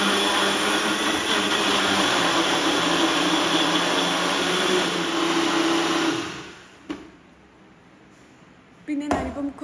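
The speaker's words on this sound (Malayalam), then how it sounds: "അപ്പം ആ ഒരു മാംഗോ പൾപ്പ് ഞാൻ മിക്സിയുടെ ജാറിൽ ഇട്ട് കൊടുത്തിട്ടുണ്ട്." A mixer grinder whirs loudly and steadily as it blends mango pulp with sugar and milk for homemade ice cream, running continuously for about six seconds before cutting off, followed by brief clattering handling noises.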